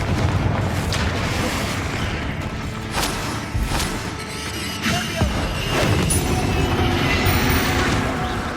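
Confringo fire spells in Hogwarts Legacy burst as repeated booming explosions amid ongoing combat rumble, several heavy blasts spaced across a few seconds, loud and close.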